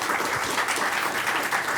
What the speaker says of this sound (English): If you guys can give them a round of applause,